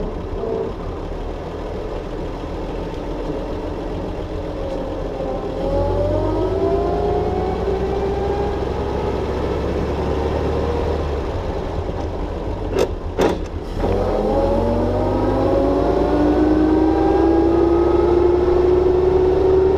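A 1928 Packard 5-33 Runabout pulls away in first gear, its engine note rising steadily as it accelerates, loud and close, with a brief clatter partway through.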